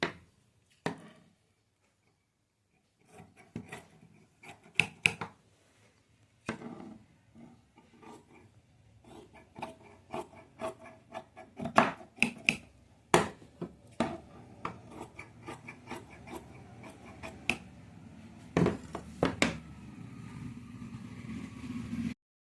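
Scissors cutting cloth for a kirpan cover, heard as a series of quiet, close snips and rustles that come irregularly and grow more frequent toward the end, with no speech.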